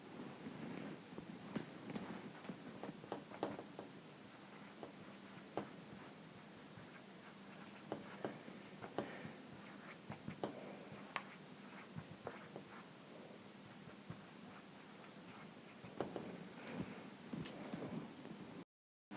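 Pen or pencil scratching across paper while working out precalculus calculations, a steady run of small strokes and taps for about nineteen seconds, fairly quiet and close, with no talking.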